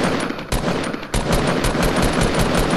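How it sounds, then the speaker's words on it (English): Rapid automatic weapon fire in Fortnite rattles out in close, loud bursts with a short pause, then continues as a dense stream of shots. "you're shooting at me!"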